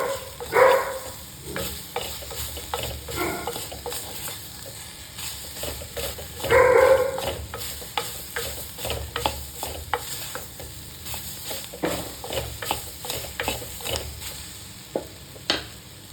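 Ingredients for a traditional mango koozh, with salt and a spoonful of spice powder added, are sautéed in a pan. A spoon stirs and scrapes in repeated bursts over a low sizzle, and a dog barks faintly in the background.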